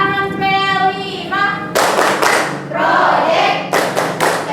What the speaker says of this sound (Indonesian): Tepuk tangan P5.